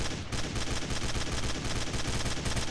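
Rapid automatic gunfire in the video game GMod DarkRP, used as suppressive fire, a continuous, evenly paced stream of loud shots that fills the whole short stretch without any talking.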